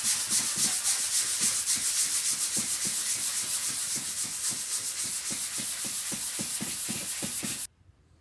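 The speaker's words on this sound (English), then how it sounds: "my sanding sponge here and 80 grit sandpaper and go over these rough spots here" An 80 grit sanding sponge scrubs the rough spots on a fiberglass Old Town canoe hull, a close, rhythmic back-and-forth rasp repeating about three times a second, stopping abruptly at the end.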